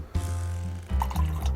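A small dash of water poured into a carbonated drink, a short, close trickle and gurgle of liquid filling the glass, with a brief rising fill tone and light splashing, no voices.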